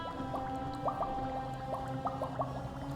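Water pumped from a toilet in the Mad Max video game, a liquid sloshing and gurgling with rhythmic squeaky pump strokes repeating over a low steady hum.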